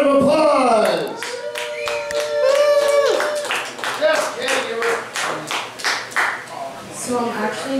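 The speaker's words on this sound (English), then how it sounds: "How about Gigi? A round of applause." An audience claps for a performer at a stage show. Scattered, uneven hand claps mix with whoops and voices over several seconds.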